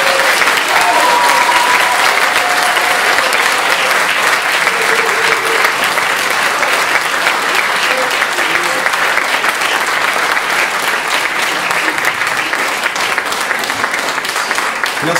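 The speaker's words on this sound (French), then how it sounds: "un énorme applaudissement" Loud, sustained audience applause fills a theatre hall at a show in Villeneuve-sur-Lot, dense steady clapping for about fifteen seconds with a few faint cheers and whistles mixed in.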